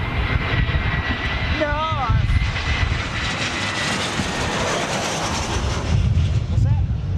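Airbus A380 jet airliner flying past, a loud, steady roar of its big engines filling the whole stretch, with people talking over it near the start and end.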